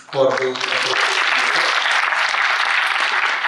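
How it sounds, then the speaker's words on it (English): An audience at a journalism and mass communication college event gives a guest a sustained round of applause, loud and dense throughout, with a voice speaking briefly over the opening moments. "Let's give a big round of applause for those"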